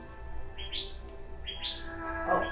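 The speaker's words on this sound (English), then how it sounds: "Oh, we have our friend the bird" A bird chirps outdoors in two rising tweet bursts with a brief call near the end, moderately close over a steady low background hum.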